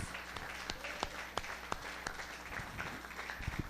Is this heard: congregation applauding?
yes